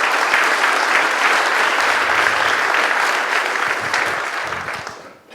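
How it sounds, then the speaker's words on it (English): Attendees at a tech monitoring conference clap for themselves, a sustained, dense round of applause filling the hall before it tapers off and fades at the end. "please give yourself a round of applause"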